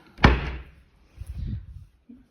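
A door in a temporary refugee apartment in Germany closes with a single sharp, close thud, followed by a softer rattling shuffle and a faint knock at the end.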